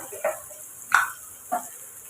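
Three short bursts of sizzling from vegetables and grated carrot being stirred in a hot pan, each crackle rising and fading quickly, close and fairly loud, with no talking.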